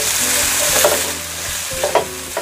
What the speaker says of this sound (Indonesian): ditumis-tumis juga semua bawang merahnya sampai aromanya harum ya